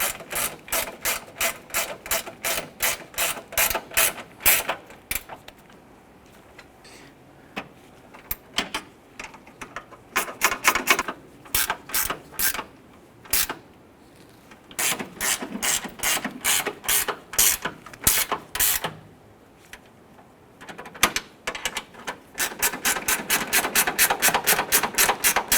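Ratchet wrench tightening a bolt on a bracket at the radiator support of a 2012-2017 Toyota Camry: long runs of loud, rapid, close metallic clicks, broken by brief pauses as the handle swings back.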